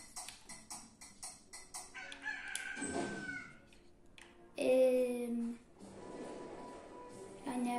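Rooster crowing in the video game Slime Rancher, a couple of drawn-out crows amid soft game chimes, with a person talking over and between them.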